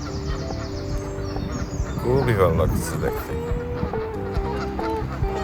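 Ducks on a park pond in Warden Park, Luton, give nasal honking calls that rise in a short burst and then continue intermittently. A person talks over them throughout.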